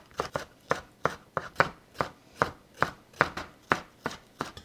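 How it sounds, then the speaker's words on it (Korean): Knife thinly slicing halved bell pepper on a cutting board, a quick even run of about a dozen crisp chops, close and clear with no talk. "반 개씩 자, 가늘게 마찬가지로 썰어줍니다"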